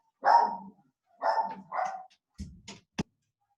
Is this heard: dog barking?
yes